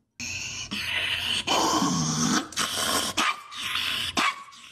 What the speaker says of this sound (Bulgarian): Аз не бих посмял да пипна такова куче.